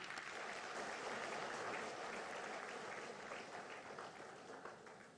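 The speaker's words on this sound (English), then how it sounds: "Big round of applause once again" Sustained audience applause at a Zimbabwean performance contracts signing and awards ceremony, a dense, steady wash of many hands clapping that holds loud throughout and eases slightly toward the end.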